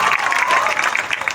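A large crowd gathered in a stadium for a community rally applauds, a dense, continuous wash of clapping close and loud throughout the short stretch, with faint voices mixed in.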